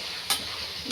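Chicken pieces being mixed in a biryani pot over a low flame, a brief close sizzling scrape with one sharp stir accent, no voices.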